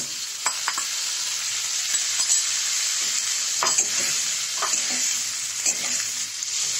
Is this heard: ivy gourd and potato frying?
yes